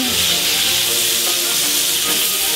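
Shrimp sizzle on a hot plancha griddle, a loud dense hiss close up with faint scraping as they are turned.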